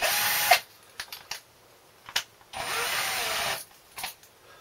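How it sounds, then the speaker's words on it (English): A spring-loaded cylinder hone with stones, driven by an electric drill inside the bore of a Briggs & Stratton 5 hp small engine: short bursts of high whirring spin alternating with pauses and light clicks, close by. "A Hohner, basically spring loaded with some stones on, and you just whack it into your drill."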